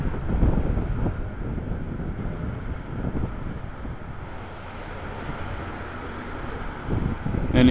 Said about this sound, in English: A bit windy here today.